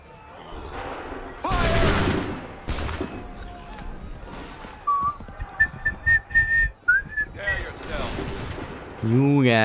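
Musket volleys in Assassin's Creed 3 crack out as a few loud, sharp shots, separated by pauses, among battlefield noise, while a voice calls out commands.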